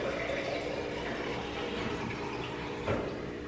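Water poured into a glass at home during a morning routine, a steady soft splashing fill that lasts the whole stretch at moderate, close volume with a small bump near the end, with no talk.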